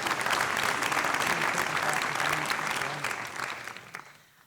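An audience at a university awards ceremony gives faculty diversity awardees a round of applause, dense and steady for several seconds before tapering off at the end.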